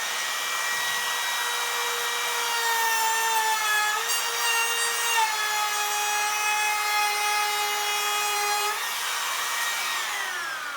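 A Bosch cordless router running on a 6 amp hour battery cuts into hardwood with a loud, steady high-pitched whine whose pitch dips slightly under load, then rises back as the cut ends, with no talking.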